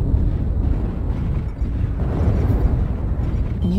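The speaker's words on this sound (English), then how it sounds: "Warning, incoming missile" Dense, rumbling explosion noise from an incoming missile strike in a mech combat video game, loud and sustained for several seconds with no clear individual blasts.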